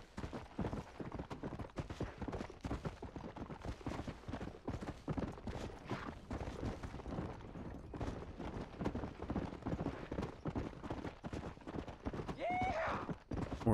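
A horse gallops in Red Dead Redemption, its hooves drumming in a fast, steady rhythm throughout, with a brief whinny near the end and someone talking over it.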